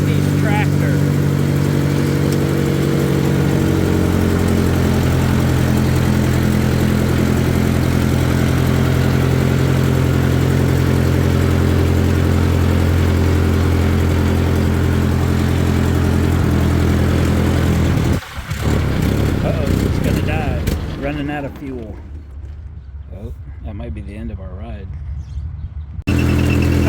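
A 1953 Ford Golden Jubilee tractor engine chugs and idles loudly in a steady low drone, then cuts out abruptly and sputters, with a person talking over it.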